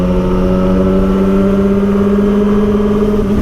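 A motorcycle or car engine held at steady revs, loud and close, with a continuous droning hum and no voices.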